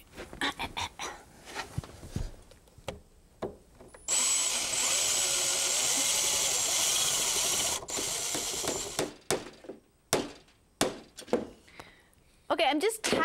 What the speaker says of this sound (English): I'm just tacking the crown molding in place now.